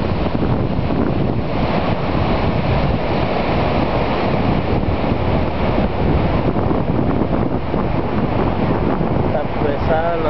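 Ocean surf rolls continuously onto the beach at Las Tunas, loud and close and mixed with heavy wind buffeting the microphone.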